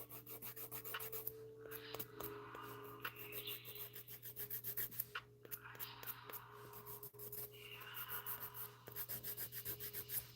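Quiet, close-up rasping strokes of a dip-powder nail being sanded, coming in short repeated bursts separated by brief pauses.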